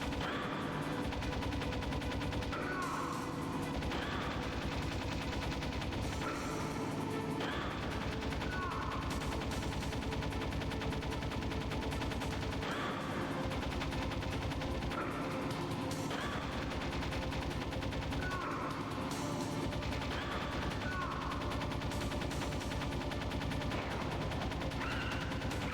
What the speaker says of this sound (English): I'm just fucking hitting him with bullets